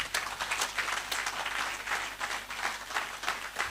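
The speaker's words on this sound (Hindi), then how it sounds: "ताली बजाओ" An audience at a network marketing sales training session claps in a dense, steady round of applause that holds at an even level throughout.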